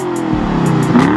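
A 2012 BMW 650i xDrive with a 400-horsepower twin-turbo V8 revs loudly and close by, its engine note rising steadily through a brief burst.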